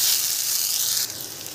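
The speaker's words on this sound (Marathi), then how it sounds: "त्यामध्ये टोमॅटो, लसूण आणि आलू हे पण फ्राय करूया" Onion, tomato, garlic and potato fry in a pan for palak paneer masala, making a brief, bright sizzling hiss that drops in level just before the end.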